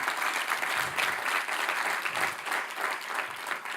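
A congregation at an evening Spanish-language church service breaks into sustained applause, a dense and even wash of clapping from many hands that carries on without pause.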